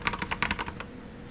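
Quick, light keystrokes on a computer keyboard, a brief, faint burst of clicks with no talking.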